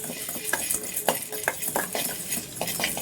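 Ingredients for prawn biryani being sautéed in a pan: repeated clinks and scrapes of a metal spoon against the pan over a faint sizzle, close up, in an uneven stirring rhythm.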